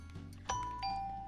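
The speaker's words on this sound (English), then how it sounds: "and there's your doorbell sound." A Minecraft doorbell built from note blocks rings with two clear chime tones in quick succession, a higher ding then a lower dong, soft and clean over a faint low hum.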